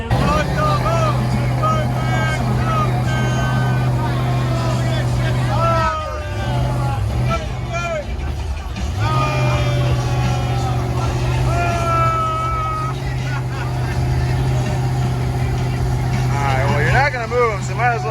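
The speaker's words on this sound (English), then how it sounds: "now we got the Ninja Turtle truck going against Kenny Wing Jr" Modified trucks rev and roar in a truck tug-of-war event, including a Ninja Turtle-themed truck. A loud, continuous engine drone holds steady throughout, with engine pitch sweeping up and down under crowd noise and talk.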